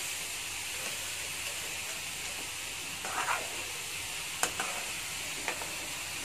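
Purple cabbage thoran with masala is stirred in a pan, giving a soft steady sizzle with occasional faint scraping clicks.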